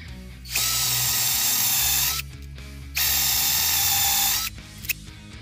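A power drill bores dowel holes into wood for a joint, two sustained loud whirring bursts of about two seconds each separated by a short pause, with no talk.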